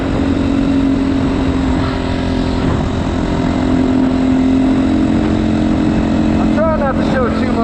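GPX FSE300R dual sport motorcycle ridden on the road, a loud, steady engine drone mixed with wind rush, and a rider talking over it.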